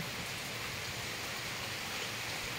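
Heavy typhoon rain pours steadily in Palawan, a dense, unbroken roar of falling water with no voices, constant and loud throughout.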